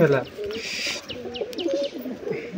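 Soft cooing of a paired couple of Giribaz pigeons and faint chirps close by, with low murmuring voices and light rustling in the background.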